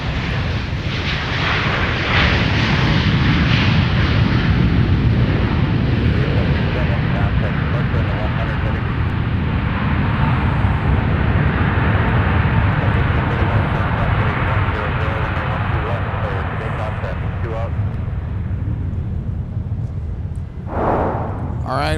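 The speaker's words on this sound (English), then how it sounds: "let's take another peek here at our Southwest arrival from Denver" Southwest Airlines Flight 1288, arriving from Denver at Minneapolis–St. Paul airport, thunders past with a loud, deep, rumbling engine roar that fades slightly near the end.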